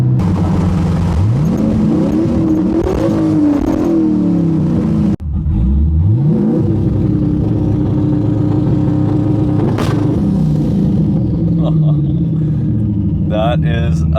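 A tuned turbocharged Chevrolet Silverado pickup revs hard with rising and falling engine whine, cuts off abruptly, then roars again, loud and close, with a voice speaking over parts of it.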